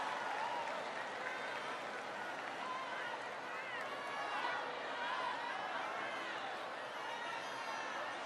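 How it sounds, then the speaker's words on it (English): A large crowd applauding at a Barack Obama speech on college affordability in Buffalo, a continuous wash of clapping mixed with cheering and crowd chatter, steady and dense throughout. "Give him a big round of applause."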